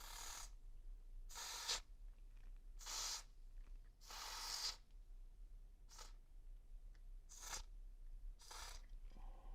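Short hissing bursts from a WD-40 aerosol spray can, sprayed into a game controller's analog stick, repeat about eight times in quick, uneven succession, quiet and close.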